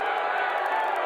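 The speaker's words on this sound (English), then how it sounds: "He got booed like a ton of times, so she stitched them all together for us" Crowd at the Libertarian convention booing Donald Trump, a dense, sustained roar of many voices jeering together at full volume, steady throughout with no pauses.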